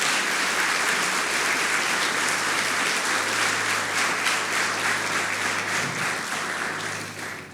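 A church congregation applauds loudly during a service, producing a thick, continuous roar of clapping that holds strong for several seconds before easing slightly toward the end, with a low hum beneath.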